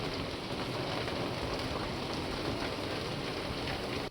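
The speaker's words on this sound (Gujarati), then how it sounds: "જામનગરના જામજોધપુર તાલુકામાં પણ ધોધમાર વરસાદ" Heavy downpour in Jamjodhpur taluka of Jamnagar, Gujarat: a dense, steady roar of rain pounding surfaces, loud and unbroken from start to finish, with no voices.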